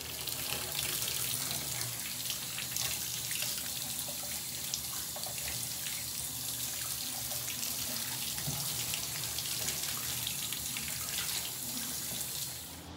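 A strong spray of water rinses jade plants, a steady, close hiss and splash that runs unbroken for about thirteen seconds.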